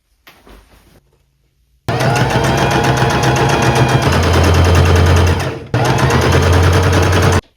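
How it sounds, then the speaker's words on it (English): A sewing machine top stitches the waistband of a thrifted dress: after a brief quiet start it runs loud and steady for about four seconds, pauses briefly, then whirs on again close by. "Now I can do a top stitch along this waistband here to attach these together."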